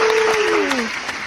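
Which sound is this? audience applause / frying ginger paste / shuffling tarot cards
audience applause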